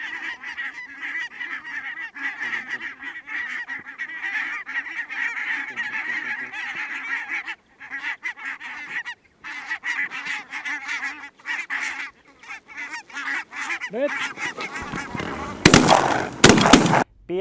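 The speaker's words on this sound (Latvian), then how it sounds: "Šī ir viena no zosu svilpīšu veidiem." A goose-hunting call whistle blown up close gives a long run of rapid, honking goose calls with short gaps, followed by a few loud, harsh bursts at the end.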